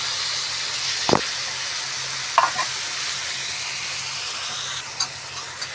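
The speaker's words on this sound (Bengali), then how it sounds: "আদা ভাজা হয়ে গেছে, মশলাটার সঙ্গে দিয়ে দিচ্ছি।" Ginger fried in hot oil, then a spice paste loosened with a little water goes into the pan for a vegetarian potato curry. The sizzle is steady and hissing, with a few sharp spoon knocks, close by and without talk.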